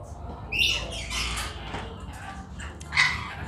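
A scarlet macaw at a bird exhibition at a fair lets out two harsh, bright squawks about two and a half seconds apart over a low murmur of background noise.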